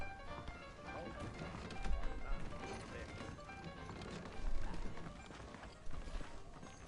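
Horse hooves clip-clop in the Western open-world game Red Dead Redemption, a steady run of hoof beats under game music and ambience, with a few louder thuds standing out.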